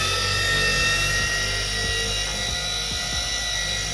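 A car polisher runs at speed 3 across a panel while ceramic coating is worked in, a loud, steady, close mechanical whine with a low rumbling drone and no talk.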